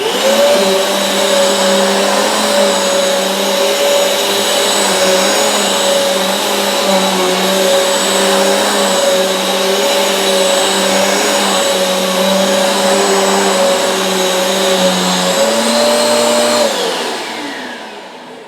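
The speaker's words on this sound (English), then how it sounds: "I'm just going to go over it one or two more times, see if any more flour comes out." Eureka Airspeed One vacuum cleaner running steadily over spilled flour, a loud continuous motor whine and airflow roar that holds level for most of the stretch before the motor winds down and fades at the end.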